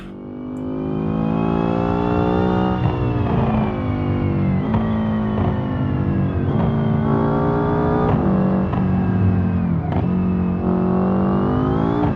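A game car engine in Forza revs hard and steadily under throttle with nitro, its loud, continuous drone repeatedly climbing in pitch and dropping sharply at each gear shift.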